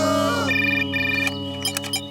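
A telephone rings in a Titeuf cartoon, a loud electronic ring with sustained harmonic tones that shift pitch partway through, over a dense cartoon mix.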